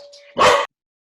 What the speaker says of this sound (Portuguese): os cachorros estavam latindo aqui